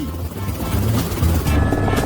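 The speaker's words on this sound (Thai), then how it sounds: "ฉันต้องการเฮลิคอปเตอร์ด่วน" A helicopter rumbles steadily overhead with a dense low-frequency thrum, loud and continuous, while a voice talks over it.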